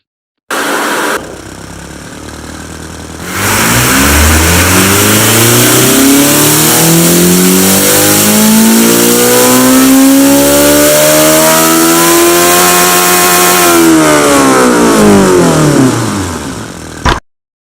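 A four-cylinder turbo car in the game Automation revs loudly and close, holding a rough idle before sweeping up through the rev range and back down in one long, smooth rise and fall.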